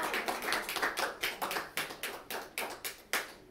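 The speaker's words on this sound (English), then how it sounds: "You guys can clap." A small audience claps after a music therapy talk, a sparse, uneven run of individual hand claps, fairly close and distinct rather than a dense roar.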